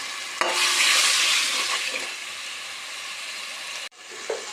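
Ginger garlic paste frying in a pan for mutton curry, a loud close sizzle and hiss with stirring scrapes, fading slightly before a brief break and a clink.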